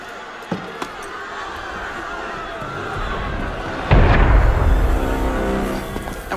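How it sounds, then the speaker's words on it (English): A deep booming cannon blast rumbles in midway through an Assassin's Creed Unity game scene, following steady background noise and a couple of small knocks, close and loud. "That was cannon fire."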